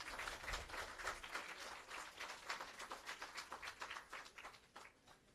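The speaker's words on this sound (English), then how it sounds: "Please give them a round of applause." An audience at a social housing handover ceremony on Allamanda Avenue, Tower Hill, claps steadily in a dense patter of applause. It stays fairly distant and soft, then thins out and fades toward the end.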